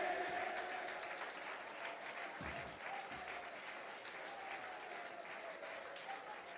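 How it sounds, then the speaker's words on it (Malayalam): A church congregation applauding during a Malayalam Christian sermon, a soft, steady patter of many hands clapping at a distance, fading slightly toward the end. "കൈയടിക്കുന്ന നേരെ കൈയടിക്ക്."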